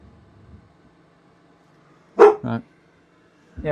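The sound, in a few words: dog barking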